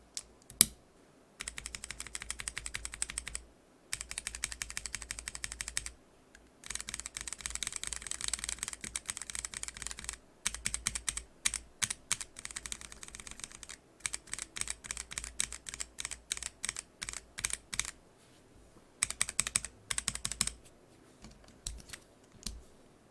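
Typing on NovelKeys BOX Cream mechanical keyboard switches fitted with keycaps, heard close up as rapid, crisp keystroke clacks in bursts of several seconds broken by short silences.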